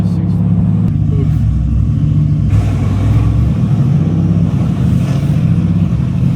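A Mercedes-AMG V8 car engine rumbles loudly and steadily at close range on a night drive, a deep continuous drone with a faint rise in revs, while people talk over it.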